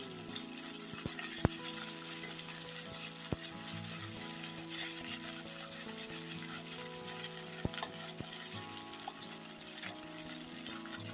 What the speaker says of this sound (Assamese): এতিয়া মই ইয়াতে আদা নহৰু পেষ্টটো দি দিলোঁ। এইখিনি অকণমান এনেকৈ ফ্ৰাই কৰি লওঁ